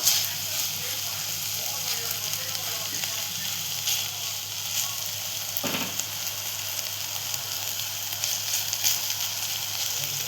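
Chilli mixture with grated coconut and jaggery sizzles steadily in a hot pan while being sautéed and stirred, a close, continuous frying hiss with a brief scrape near the middle.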